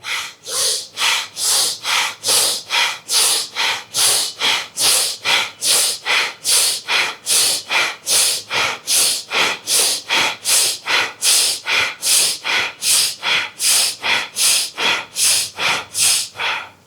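Pranayama breathing practice: loud, close, forceful breaths repeating in a fast, even rhythm, dozens of cycles with no pauses and no talking.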